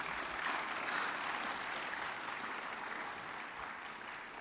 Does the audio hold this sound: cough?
no